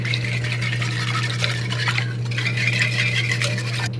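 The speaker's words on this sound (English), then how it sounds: "We're gonna go ahead and whisk that up." Whisk stirring an onion powder and paprika marinade for beef jerky in a container, a steady scraping swish that runs the whole time over a constant low electrical hum.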